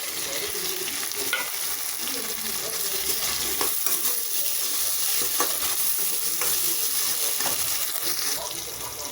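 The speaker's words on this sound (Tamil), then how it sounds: "இப்போ வெங்காயம் நல்லா வதங்கிடுச்சு." Onion, tomato, ginger and garlic sautéing in a pan for a mushroom salna, giving a steady close sizzle with scraping stirs throughout, no voices.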